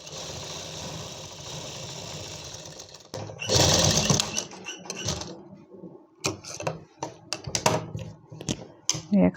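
A sewing machine runs in a steady whirring stitch on a 4-inch belt seam of Afghani palazzo trousers, then stops and restarts in short bursts with clicks and handling noises.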